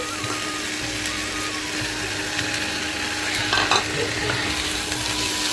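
Cut chicken pieces sizzle steadily in hot, well-cooked masala for a chicken vegetable khichuri, a continuous close frying hiss with a short burst of stirring clatter near the end.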